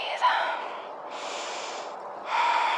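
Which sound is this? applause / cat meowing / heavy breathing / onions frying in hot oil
heavy breathing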